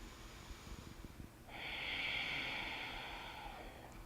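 During a yoga session a person breathes close to the microphone: a few soft, short breaths at first, then one long, steady, audible exhale with a hissing, airy quality.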